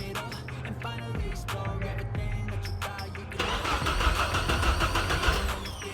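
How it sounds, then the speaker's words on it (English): A Toyota Camry engine cranks with a rapid whirring starter, then catches and settles into a loud, steady idle, close up, with the crank and the running engine both clearly heard. "Start. Come on. Yeah. Camry started."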